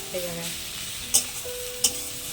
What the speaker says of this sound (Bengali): দেখুন এটাকে আর একটু কষিয়ে নেবো ভাজা ভাজা করবো